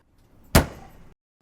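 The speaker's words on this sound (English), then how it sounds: "The car door slamming," A car door slams shut once, a single loud close thump with a short ringing decay in an otherwise quiet setting.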